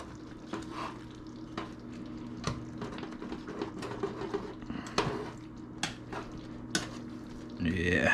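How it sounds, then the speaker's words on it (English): Meatballs being stirred in a pan of bubbling marinara sauce, soft repeated clicks and scrapes of a utensil against the pan over a low simmer, quiet and close, with a brief louder stir at the end. "just kind of stir them around, kind of get that marinara"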